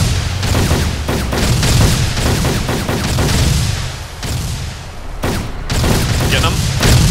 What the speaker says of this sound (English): They're shooting us now.